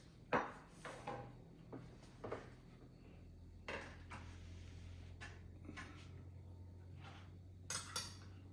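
A spoon clinks and scrapes against a bowl while scooping beef stew with meat and potatoes: scattered light knocks and taps, close and fairly quiet, over a low steady room hum.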